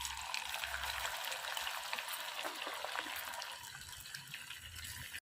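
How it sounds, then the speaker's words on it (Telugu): Taro root pieces fry in hot oil until brown, giving a steady, close crackling sizzle with faint liquid bubbling that runs throughout and stops abruptly at the end. "ఇలా బ్రౌన్ కలర్ వచ్చే వరకు వేపుకుందాం"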